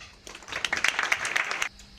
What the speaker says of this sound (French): je crois qu'on peut t'applaudir